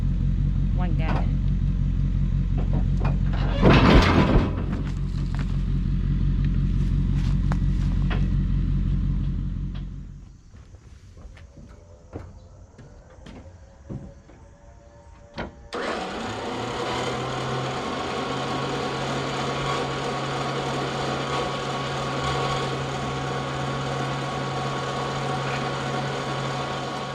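A tractor engine runs at a steady idle while a big white oak log is lined up in a log yard, dropping quiet for a few seconds before revving back up loud and constant, with a voice talking over it.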